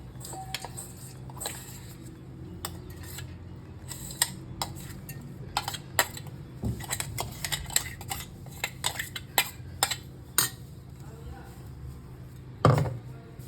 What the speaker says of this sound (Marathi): हे आता जाडसर वाटलेले गहू ह्याच्यात टाकायचे पातेल्यात